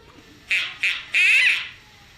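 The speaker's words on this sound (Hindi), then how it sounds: "बतख है और उसको बतख ही कहते हैं और इंग्लिश में डक कहते हैं" A duck gives three raspy, nasal quacks in quick succession, two short bursts then a longer drawn-out one, fairly close and clear.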